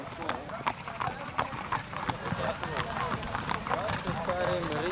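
Horses running in a race, with fast irregular clip-clop hoofbeats thudding throughout over a busy, noisy background, while people talk across it.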